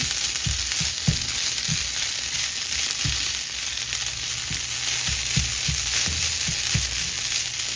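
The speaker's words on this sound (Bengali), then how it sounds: "কিমাটা ভাজা হলেই মজা লাগবে এই জন্য আমি অনেক সময় নিয়ে ভাজবো" Minced meat (keema) frying in very little oil in a pan, a loud steady sizzle with repeated dull knocks and scrapes of stirring spread across the clip.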